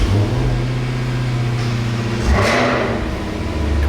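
Chevrolet Camaro engine idling with a deep steady rumble, then a sharp rev swelling briefly around the middle before settling back to a loud low drone, close by.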